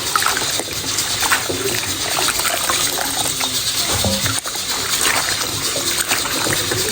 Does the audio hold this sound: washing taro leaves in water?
yes